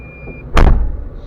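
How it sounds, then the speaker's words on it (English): An excavator cab door on a machine with blown dipper cylinder seals swings shut in one loud, close thump with a short rattling tail, set against a low idling engine hum. "Alright, I'm gonna close the door."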